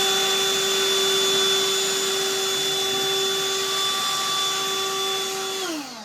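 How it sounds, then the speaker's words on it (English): A Dust Buster handheld vacuum runs with a steady, high-pitched whine while sucking up fireplace ashes, close and continuous, then winds down at the end. "Now I'm going to show you how this vacuum works."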